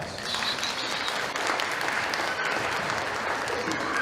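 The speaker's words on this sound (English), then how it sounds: "Let's give him a round of applause." Audience applause at a high school family information night, steady dense clapping from a seated crowd filling the whole stretch, with a few voices faintly mixed in.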